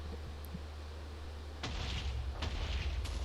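A C4 charge detonates at a distance: a sudden broad boom just past the midpoint, then a sustained rumble with a couple of sharper cracks following, loud against a quiet low hum.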